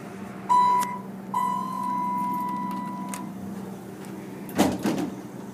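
Doors of a Dover scenic hydraulic elevator at a lodge slide shut with a soft rumble, preceded by two short tonal chimes and followed by a brief bump as the doors meet, over steady machinery hum.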